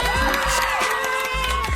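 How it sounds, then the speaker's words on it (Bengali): An audience at an academy success ceremony claps and cheers, a dense wash of applause with whoops and shouts that stays loud throughout. "এবং স্পেশালি অমিত দার জন্য ফাটিয়ে একটা হাততালি হোক সবাই মিলে।"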